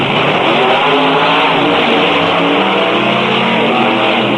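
Drag racing machines roar at full acceleration, a loud continuous wall of engine noise with no pauses, heard as a compressed, broadcast-style effect.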